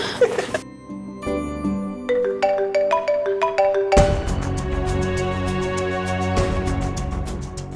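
A melodic electronic phone ringtone chimes in rising note patterns, then repeats as a brighter, faster sequence of tones, loud and close with no talking.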